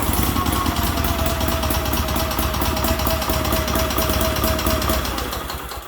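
An old, rusty Sears garden tractor engine runs at a fast, rough, knocking idle, loud and close, with a steady whine, then fades slightly at the end.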